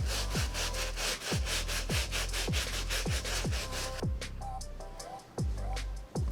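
Brush scrubbing the midsole of a Nike Blazer Mid 77 sneaker during cleaning, a loud, rhythmic back-and-forth scraping with about a dozen steady strokes, close up and without talk.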